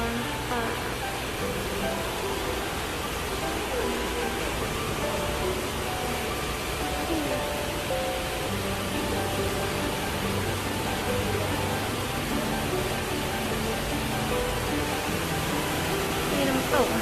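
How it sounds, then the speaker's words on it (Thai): A garden waterfall at a Korean cherry blossom park, a steady broadband rush of falling water at constant loudness with faint voices in the background. "ได้ยินเสียงเสียงน้ำตก"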